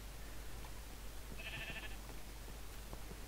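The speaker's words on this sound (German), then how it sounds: "Oh, unser Schaf ist groß geworden." Sheep bleating in the video game Minecraft, a single short bleat heard at moderate level over a steady background hum.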